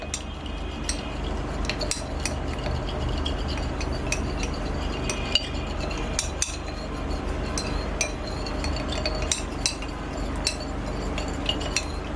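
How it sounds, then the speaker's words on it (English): A utensil stirs xanthan gum into glycerin in a small container for homemade base cream, producing repeated light clinks and taps against the vessel over a soft steady background, close by. "So I've stirred my xanther gum."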